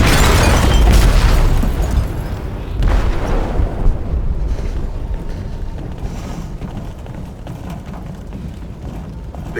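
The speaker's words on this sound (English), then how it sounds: "They detonated an explosive in the hold." A powerful explosive blast in a ship's hold in Detroit: Become Human, starting with a loud deep boom, then a second impact and a long rumbling decay.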